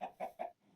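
A chicken in the Minecraft SkyFactory 3 modpack clucks three short, evenly spaced times, quiet and close, with a fourth cluck beginning at the end.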